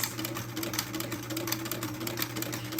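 Sewing machine stitching a buttonhole with a template hums steadily and fairly quietly at close range, a continuous whirring drone with no talking.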